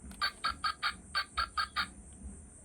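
A toy cell phone plays a bird call labelled as a crow: eight short, evenly spaced electronic caws in two groups of four, close and loud, then quiet.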